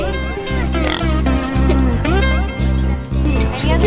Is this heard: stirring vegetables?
no